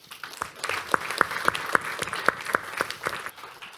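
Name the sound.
audience applause for a speaker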